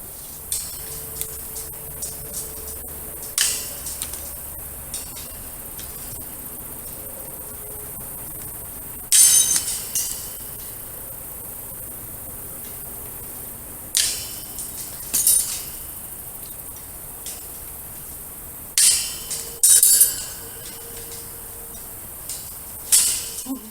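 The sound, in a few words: trimming sharp wire ends off fence panel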